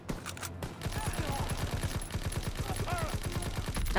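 Rapid automatic gunfire from the World War II shooter game Call of Duty WWII, a dense, steady stream of shots that goes on without a break, with battle noise in the background.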